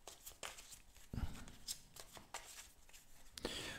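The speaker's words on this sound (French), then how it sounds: "Je vais mélanger un peu les cartes." Tarot cards, including a Basque tarot deck, are shuffled by hand in quick, soft riffling bursts with light papery flicks and taps, close and quiet.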